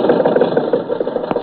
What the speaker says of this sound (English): Mary, Don, and I got into Maxwell, and Rochester drove us over to Mr. Mortimer's office on Hollywood Boulevard.